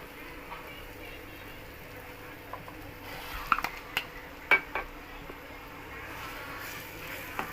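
A spoon works three mashed potatoes into masala in a pan for potato-coriander parotta, giving quiet scraping with a few sharp metallic clinks midway over a faint background hum.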